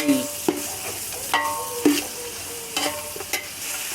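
Chopped tomatoes fry in hot oil for chicken biryani with a steady sizzle, while a spoon scrapes and stirs the pan in several sharp strokes.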